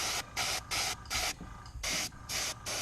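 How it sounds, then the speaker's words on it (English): Airbrush spraying paint onto a Gundam model part, a loud hissing burst repeated in several pulses of about a third of a second each, close up with short gaps between, no talking. "then you just need to spray the airbrush it."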